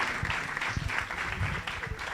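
An audience at the Open Source Day 2024 conference applauds after a talk, producing dense, continuous clapping at a fairly loud level.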